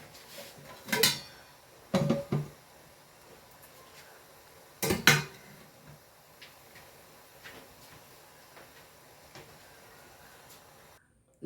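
A metal lid set down on a pot of steaming bao buns, a few sharp clinks and clatters spaced apart over quiet kitchen background, the loudest pair close together, with no one talking.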